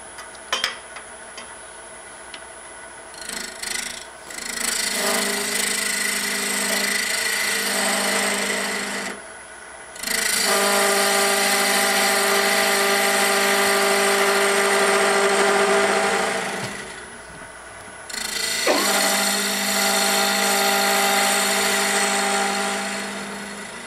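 Wood lathe spinning a long-stem goblet blank while a quarter-inch bowl gouge cuts, giving loud, steady scraping runs of several seconds each with short quiet gaps between them, over a constant motor hum and with no talking.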